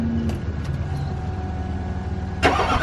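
A Duramax diesel truck engine starts roughly after its fuel is bled, with a low, uneven mechanical rumble, faint clicks, and a sudden louder burst near the end as it catches.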